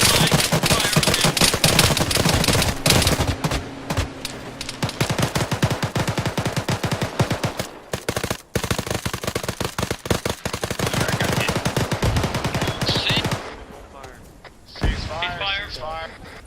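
Heavy sustained gunfire in a military shooter video game during a squad operation: dense, rapid automatic bursts and single shots pound almost continuously, loud and close, thinning out near the end, with voices talking over the shooting.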